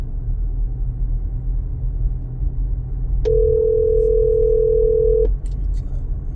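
A telephone dial tone sounds while a call is placed, a single steady electronic tone lasting about two seconds over a constant low rumble in the background.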